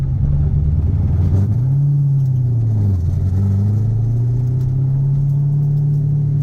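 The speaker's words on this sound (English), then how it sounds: "the car shifts and drives amazing" A 1977 Datsun 280Z fitted with an LS3 V8 drives along, its engine note dipping and rising through a gear shift, a loud, close, continuous rumble without talk.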